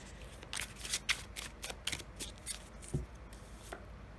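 Halloween-themed oracle cards are shuffled and handled, a run of crisp, papery riffles and flicks at close range with short pauses between, and no talking.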